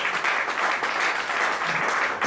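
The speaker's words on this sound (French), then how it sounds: "acclame Jésus, acclame Jésus" A church congregation applauds during a sermon, a dense, steady wash of clapping close up and fairly loud for a couple of seconds.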